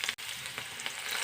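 Mustard seeds, cumin and garlic sizzle in hot oil with a dense, close crackle. Soft popping bursts and a brief dropout break up the sizzle, and nobody talks.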